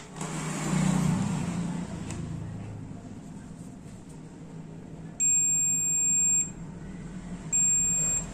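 A multimeter on continuity test gives two loud, steady electronic beeps, each about a second long, while its probes touch the legs of a shorted transistor in a Salora colour CRT TV. Background rumble and faint talk come before the beeps.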